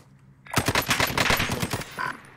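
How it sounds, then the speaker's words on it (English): Rapid automatic gunfire from Call of Duty: Warzone, a dense burst of close, loud shots in quick succession after a brief quiet start, tailing off with a short final burst. "I'm getting shot at."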